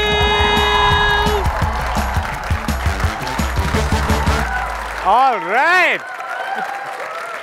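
A television studio audience claps loudly for a comedy talk show host, with music and cheering underneath at first. The applause fades as the music ends, and a voice then speaks over the last of it.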